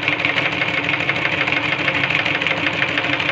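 A sewing machine runs steadily at night while stitching a lungi, a continuous close mechanical whir and buzz with no pauses and no voices.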